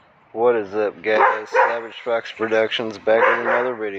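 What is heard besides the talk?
dog barking in the background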